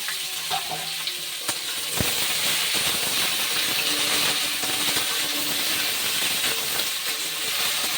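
Washed, drained taro stolons fry in oil with green chili and nigella seeds, giving a steady, close, busy sizzle with faint stirring clicks throughout.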